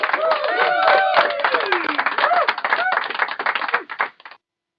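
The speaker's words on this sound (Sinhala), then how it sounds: "ක්ලැප් කරන සද්දයක් එනවා" A canned clapping effect played from a V8 sound card: dense, rapid claps like a small crowd, with vocal sounds mixed in, fading and cutting off near the end.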